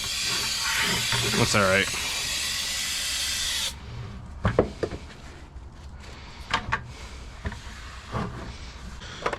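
A cheap aerosol can of brake cleaner in a heavy duty repair shop gives off a broad, steady hiss for nearly four seconds and then cuts out, followed by quieter clicks and handling noises while someone speaks briefly.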